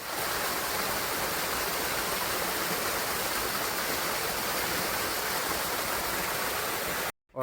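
A village stream runs over stones, rushing in a steady, dense wash of water that stays loud and constant before cutting out abruptly near the end.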